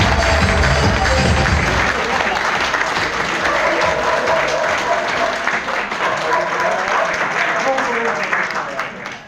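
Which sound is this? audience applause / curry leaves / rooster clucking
audience applause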